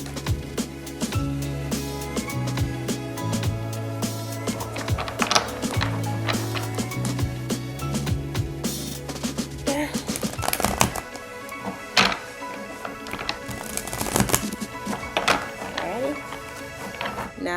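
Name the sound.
shuffling a Star Spinner tarot card deck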